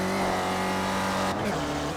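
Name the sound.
race cars on the NASCAR oval section at Charlotte Motor Speedway Roval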